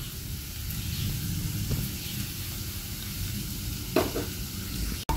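Rupchada fish frying in a hot pan makes a steady, close sizzle with soft crackling throughout, ending with a brief sharp clatter.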